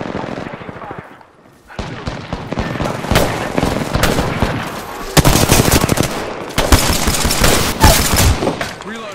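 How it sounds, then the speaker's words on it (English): Rapid pistol gunfire from a P2020 in the Apex Legends video game, with loud bursts of repeated shots and impacts filling most of the stretch after a brief quiet opening. "Making contact here. Shot fired, and they're hitting me."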